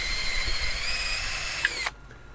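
A power drill bores a hole through a clamped folding table support, a steady high whine running for nearly two seconds before cutting off abruptly, close and alone.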